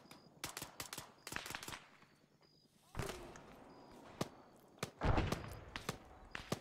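Gunshots ring out in an Arma 3 jungle firefight, sharp single cracks and short rapid bursts at varying distances, with a loud near volley toward the end, while voices talk over the radio between shots.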